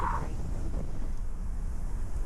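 Strong wind roaring and buffeting the microphone, a steady low rumble with no voices.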